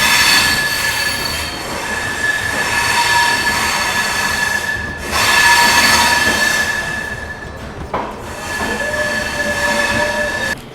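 A train pulls into New Delhi railway station with loud, sustained metallic wheel squeal and rolling rumble, the screech rising and fading in waves close by.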